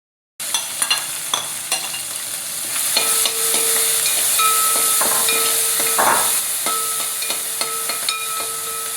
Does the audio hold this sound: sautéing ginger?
yes